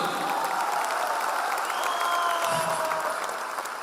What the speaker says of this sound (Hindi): मैं चाहूंगा एक बार महागुरु संजीव सर के लिए जबरदस्त ताली होनी चाहिए, जबरदस्त ताली।